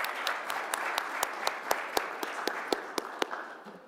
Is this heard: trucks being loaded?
no